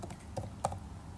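A few quick, light keystrokes on a computer keyboard while an IP address is being entered, close by and soft, with a slightly sharper final tap.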